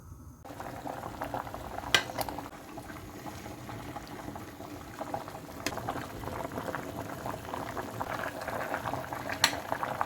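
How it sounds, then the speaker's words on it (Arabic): Peanuts boil in a pot of water, giving a continuous bubbling and popping simmer with foam forming, heard close and moderately loud with no talk. "دابا غادي نخلي كاوكاو يتسلق ومن بعد نحيد هذيك الرغوه اللي كتبدا ملي كيبدا يغلي"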